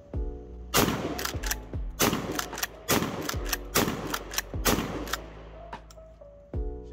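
An Emperor HD-12 shotgun fires repeatedly after a mud torture test, loud close blasts in quick bursts with short pauses between them.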